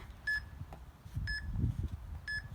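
A workout interval timer gives three short, clear electronic beeps spaced about a second apart over quiet room noise.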